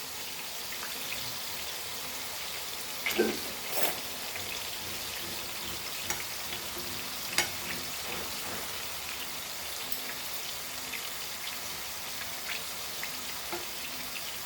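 Goan beef meatballs frying in a pan, a steady close crackling sizzle with a few brief louder pops and shifts as they are turned, no talking.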